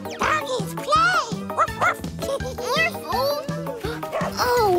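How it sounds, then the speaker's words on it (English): A cartoon dog barks and yips in quick, excited bursts, mixed with animated speech and music from a children's show. "Oh, doggy! Doggies play!"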